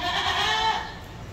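A tall Hyderabadi Patira goat, around 38 to 39 inches in height, lets out one loud, wavering bleat close by that fades out after under a second, with no talk over it.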